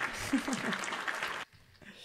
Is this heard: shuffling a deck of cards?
no